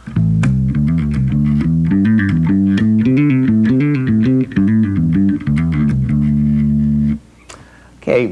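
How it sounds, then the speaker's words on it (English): A bass guitar plays a full hammer-on and pull-off pattern up and down the neck, a steady run of clear, close, loud plucked notes that continues for about seven seconds and then drops away. No one talks. "Now let me play up and down the entire hammer pull-off pattern for you."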